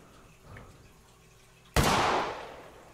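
A single sharp rifle gunshot in theHunter Classic while hunting roe deer, a sudden loud crack followed by a decaying echoing tail after a quiet lead-in.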